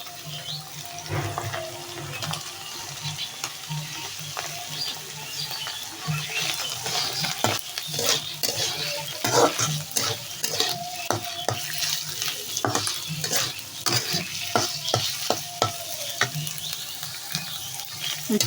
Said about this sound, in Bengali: হালকা তেলে ভাজা নেওয়ার পর এখন সব পেঁয়াজটা দিয়ে দিই।